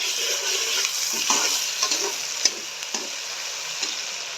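Green chilli and ginger-garlic paste sizzles in a pan with a bright, crackling hiss, occasional sharp clicks and scrapes of stirring over it.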